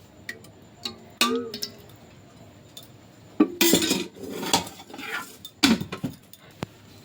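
A metal pot set down on the stove for tempering dal, with a few sharp clanks and clinks of cookware and cutlery, separated by quiet gaps, with no talking.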